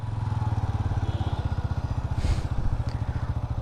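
A 125cc sports motorcycle engine thumps with a rapid, even pulsing beat as it pulls away in first gear, close and steady throughout, with a brief rattle near the end.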